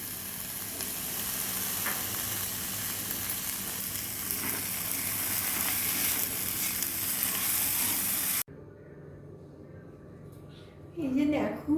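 Stuffing seasoned with garam masala and fresh coriander leaves sizzles steadily in a pan, a dense close frying hiss that cuts off sharply into a much quieter stretch, with a brief rustle at the very end.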